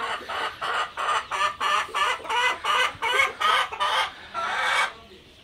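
A crowd of chicks chirps nearby in quick, evenly spaced bursts, about a dozen calls in a steady rhythm.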